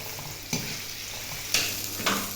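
Eggplant frying in a pan for Karnataka-style vangi bath, a steady sizzle broken by three scraping stirs of a spoon against the pan, close and clear with no talk.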